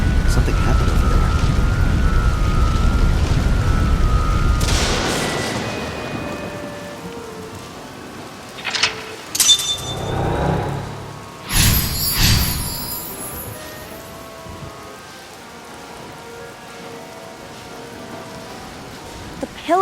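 Heavy rain pours steadily in AI: The Somnium Files, then cuts out, leaving sharp thunderclaps that crack and rumble a few times in the quieter stretch that follows.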